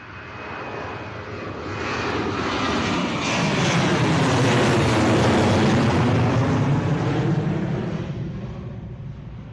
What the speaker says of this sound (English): Always nice and loud, the Ryanair 737s.